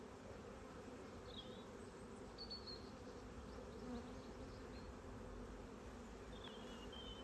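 Honey bees buzzing steadily during an open hive inspection, a dense continuous hum close by with faint higher whines of individual bees passing, no voices.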